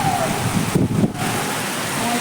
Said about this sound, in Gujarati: બહુ જ પવન સાથે વરસાદ છે.